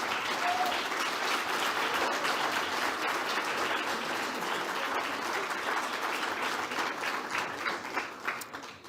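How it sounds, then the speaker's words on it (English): An audience at a talk on the social and climate crisis in Latin America and the Caribbean claps steadily for several seconds, a dense, sustained round of applause that thins out at the end. "Can we just give them a big applause for putting this together?"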